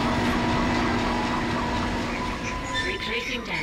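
A tram rumbles along its track in the Dead Space video game, a loud steady mechanical roar with a humming tone that fades slightly near the end as a voice speaks over it.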